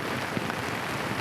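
Rain falls steadily on a camping site in the North Georgia mountains, a continuous hiss of drops with a few slightly louder taps, close and even throughout.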